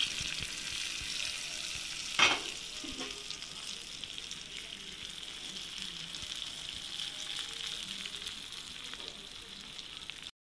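A hot tempering of oil and spices poured into karonda (vakkaya) dal, giving a sharp burst of sizzle before a steady, close frying crackle that runs on for several seconds.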